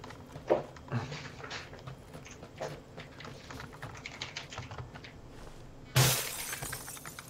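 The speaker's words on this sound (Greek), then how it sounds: "Άκουσα γυαλί να σπάει" Glass shatters in the PUBG shooter game, a sudden bright crash near the end, following stretches of fast computer keyboard typing and clicking.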